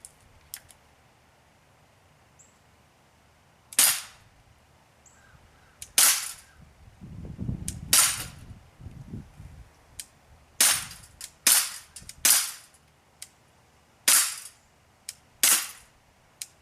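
Gamo P25 blowback air pistol fired with pellets, about a dozen sharp, snappy cracks spaced irregularly over the span, close and distinct against a quiet background, with a short muffled rustle partway through.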